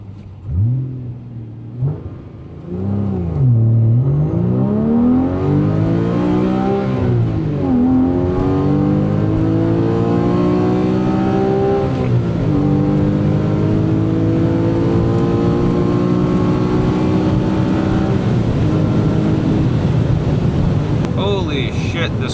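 A manual Porsche 981 Boxster S in Sport Plus mode accelerates hard, its flat-six engine loud and close as it revs up through rising sweeps with shifts between gears, wind rush underneath and a voice speaking briefly at the start.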